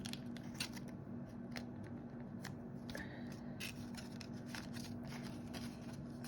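Folded paper card stock for a handmade 3D concertina Mother's Day card being bent by hand, giving faint crinkling and crisp ticking snaps over a low steady hum, close and quiet.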